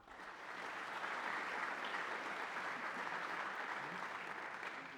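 An audience at a 2014 award ceremony breaks into steady, dense applause that swells quickly and holds at an even level, heard alone with no voices.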